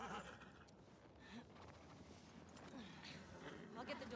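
Faint horse whinnies with some clopping hooves in the video game The Last of Us Part 2, quiet and somewhat distant throughout.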